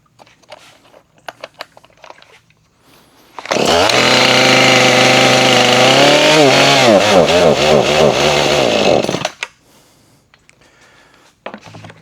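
A Husqvarna 440 chainsaw that will not rev up is pulled and cranks, roars loudly for about six seconds with a wavering engine pitch, then abruptly stalls into quiet handling clicks.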